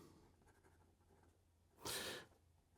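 A fountain pen with a medium stainless steel nib, a Schon DSGN Peek-A-Boo, scratches briefly across paper in one short, close stroke amid quiet room noise.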